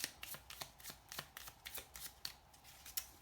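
A deck of cards is shuffled repeatedly, quick papery riffles and taps in an irregular rhythm, close and fairly quiet.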